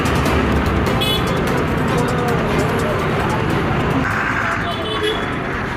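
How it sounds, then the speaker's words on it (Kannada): A borewell drilling truck at an apartment site pulls away amid steady, loud roadway noise, with a brief horn toot near the start and voices talking over the continuous engine rumble. "ನೋಡಿ ಬೋರ್ವೆಲ್ ಗಾಡಿ ವಾಪಸ್ ಹೋಗ್ತಾ ಇದೆ"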